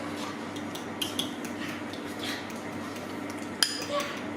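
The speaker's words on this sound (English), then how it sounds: "Going to mix with a fork." A fork mixing carrot cake muffin batter in a bowl gives soft scraping with occasional light clinks against the bowl, steady and close, one sharper tap near the end.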